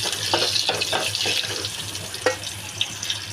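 Curry leaves, a chopped green chili and two or three kokum sautéing in hot oil in a pot for pomfret fish curry, giving a loud, hissing, water-like sizzle punctuated by sharp stirring clicks.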